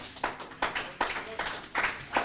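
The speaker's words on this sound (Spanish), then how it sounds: "Puede darle una ofrenda de palmas a Dios." A congregation claps hands during a Spanish-language church teaching, heard as a few loose bursts of clapping in an irregular rhythm, moderately loud.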